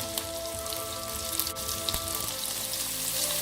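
Garlic and ginger fry in a wok of hot oil for stir-fried prawns, a close, continuous crackling sizzle with small pops scattered through it and a faint background hum, without speech.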